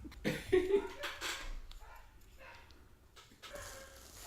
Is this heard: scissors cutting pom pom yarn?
no